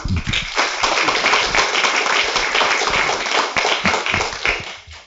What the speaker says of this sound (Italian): Nico Perico, un applauso per lui